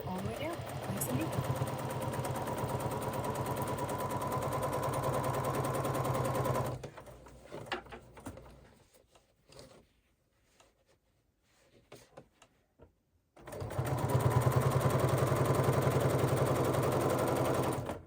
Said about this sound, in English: Keep on pressing, keep on sewing the binding on all the way down.